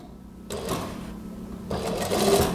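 A sewing machine runs a first basting seam on a Japanese zipper and neckline facing of a cardigan-style gamis, with two bursts of steady mechanical whirring, the second louder and longer, after a quiet pause.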